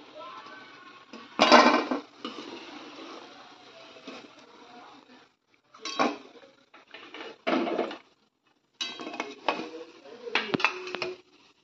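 Fried methi mathri made with wheat flour being lifted from hot oil and drained with a slotted spoon, giving several bursts of metal scraping and clinking against the pan, separated by short pauses and with faint speech between them.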